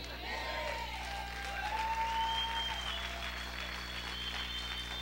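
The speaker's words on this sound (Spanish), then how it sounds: "Vamos a aplaudir más fuerte al Rey." A church congregation claps steadily and loudly together during worship, with a few voices rising and calling out over the sustained applause.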